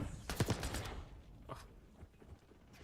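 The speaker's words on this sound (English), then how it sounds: "Shotgun." Shotgun blasts in a video game, a couple of sharp booming shots close together followed by a fainter report, fairly quiet and without talk.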